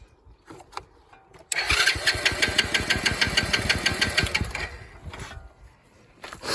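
A motorcycle engine cranks in a loud, rhythmic, chugging burst of about three seconds, then dies away without starting, heard close up in a repair setting.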